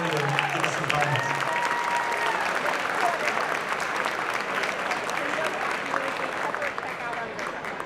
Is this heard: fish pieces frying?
no